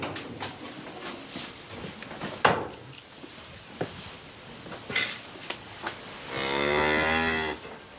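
Dairy cows on a family farm: scattered knocks and clatters at first, then one long, loud, close moo near the end.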